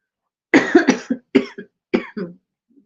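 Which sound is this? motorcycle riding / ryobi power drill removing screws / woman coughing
woman coughing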